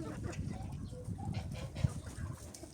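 Soft clucking from chickens nearby over low background noise, scattered short calls with one sharper peck-like sound.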